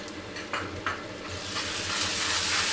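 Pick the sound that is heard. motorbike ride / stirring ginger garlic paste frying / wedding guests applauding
stirring ginger garlic paste frying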